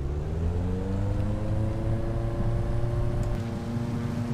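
A Continental A65 engine of 65 horsepower on a Mong Racer in Flight Simulator X powers up, a steady droning hum whose pitch rises gradually as the revs climb, loud and continuous with no talking.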